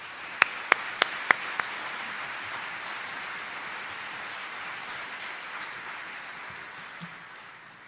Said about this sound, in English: A round of applause for our class, please